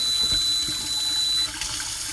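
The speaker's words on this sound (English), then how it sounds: "as you can see, I mean, we have working sprayer" A pull-down sprayer on a single-handle kitchen faucet runs water steadily into a sink, a close, even hiss and splash with a faint thin tone that stops partway through.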